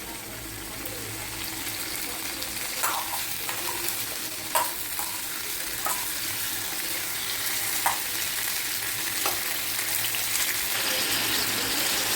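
Ingredients frying in a pan for Coimbatore-style tomato chutney, an even close sizzle running throughout, with occasional sharp clicks of a spoon against the pan.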